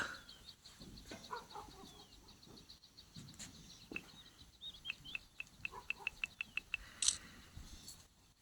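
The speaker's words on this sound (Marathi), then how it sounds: "पशुपक्ष्यांची किलबिल चालू झाली आहे" Birds chirp outdoors at misty dawn on the Kas Plateau: scattered calls early on, then a quick run of sharp, evenly spaced chirps, with a louder single call near the end.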